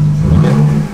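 A car engine fitted with a budget homemade cold air intake revs up and holds, a loud close steady drone with a strong low hum throughout, easing off at the very end.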